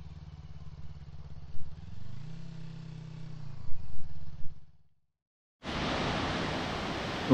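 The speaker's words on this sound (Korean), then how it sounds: "오토바이를 어디다 세워야 되나?" A motorcycle engine idles with a low, steady rumble on a riding road through Sounkyo gorge in Daisetsuzan National Park, Japan, then cuts off after about five seconds, and a loud, steady rushing noise follows.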